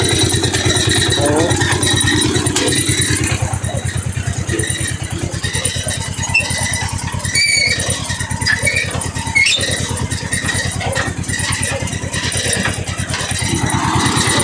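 A mini tractor hauling hay for horses at home runs steadily up close, its engine chugging in an even, continuous throb from start to finish.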